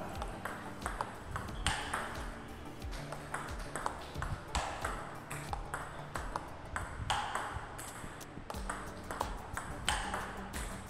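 Repeated table tennis loop drive shots with Hybrid MK rubber, sharp ball-on-bat pops and table bounces in a steady rally rhythm, close and crisp over a noisy hall background.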